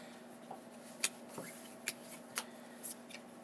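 A deck of cards riffled and handled during a board game at a table, giving a few quiet, separate snaps and flicks spread out over a few seconds, with no talk in between.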